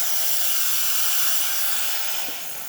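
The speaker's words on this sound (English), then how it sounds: "Excellent steam coming out of the one, excellent pressure, really great temperature." Steam wand of a Breville Barista Express espresso machine, freshly serviced after a clogged valve, hissing loudly and steadily on its own for the whole stretch, easing off slightly near the end.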